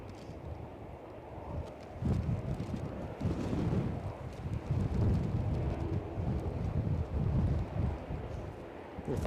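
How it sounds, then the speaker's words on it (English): Strong gusting wind, forecast above 45 mph, buffets the microphone at Edinburgh airport, producing a deep, uneven rumble that swells and eases in loud surges with no one speaking. "Not surprised in this wind."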